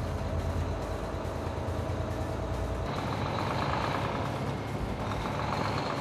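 A Volvo truck with an I-Shift gearbox rolls along at low RPM with a low, steady engine drone and broad road rumble, held quiet; the tone shifts partway through as the engine note drops.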